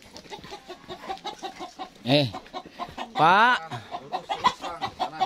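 Chickens cluck nearby in a village yard, with two loud, drawn-out squawks standing out, while people chat casually over and between the calls.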